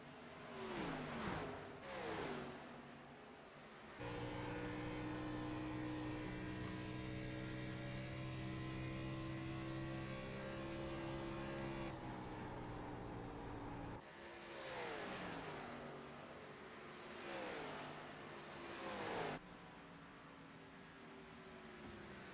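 Stock cars in an Xfinity Series sim race at Texas rev and whine past in repeated passes, with engine tones sweeping up and down and a long sustained drone in the middle, loud and alone without talk.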